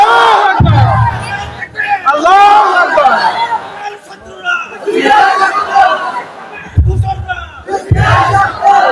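At an Islamic nasheed event, a large crowd shouts a chant in loud collective bursts, with one voice calling out between the rounds and a deep thump with each response.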